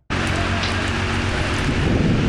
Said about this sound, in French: C'est sous une fine pluie que les partisans du FNDC ont manifesté pour exiger le départ d'Alpha Condé